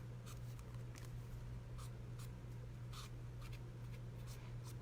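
A blender marker runs around the edge of a paper heart craft, soft faint scratchy strokes in short irregular bursts over a steady low hum.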